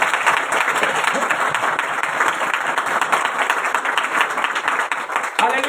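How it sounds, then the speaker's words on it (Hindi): A congregation applauds loudly at a Christmas church service, with close, dense clapping filling the whole stretch and a faint murmur of voices under it. "खुदा के जलाल के लिए जोरदार तालियां बजाएं।"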